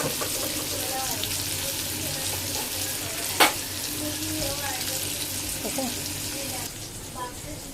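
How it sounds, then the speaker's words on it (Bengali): Onions frying in a pan to a reddish brown, a steady broadband sizzle that runs through most of the clip with occasional stirring clinks and one sharp tap midway, close by with faint background voices. "পেঁয়াজটাকে লাল লাল করে ভাজতে হবে।"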